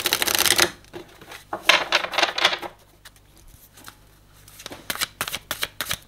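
A deck of tarot cards is riffle-shuffled close up in bursts of loud crisp fluttering, each broken by short pauses, then a run of quick snapping card taps near the end.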